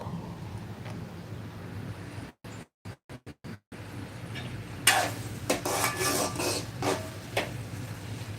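Upma stirred in a pot over a medium flame, soft rasping and rubbing scrapes of a spoon against the thick mixture, close and moderately loud after a few short gaps of silence.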